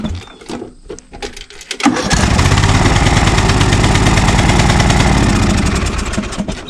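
A small lawn mower engine with its valve cover removed cranks a few times, catches at about two seconds and then runs steadily and loudly, close by, with a rapid chattering beat from the open valve train.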